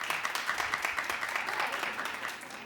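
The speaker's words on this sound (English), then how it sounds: "Clap if you're going to watch." Studio audience at a daytime talk show clapping, a moderate, fairly steady patter of many hands that thins slightly toward the end.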